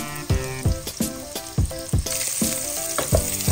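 Garlic, onion and ginger sautéing in a hot pan, a steady loud sizzle broken by regular scraping clicks of a utensil stirring, close up with no talking.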